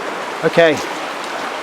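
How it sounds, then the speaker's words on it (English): A river flowing steadily with a constant broadband rush of water, close and fairly loud, as a voice speaks one short word over it. "I found a really good piece of the river here."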